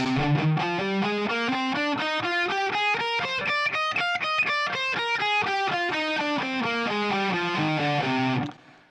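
Overdriven electric guitar plays an Aeolian scale up and then back down in steady, evenly spaced notes, ending with a clean stop.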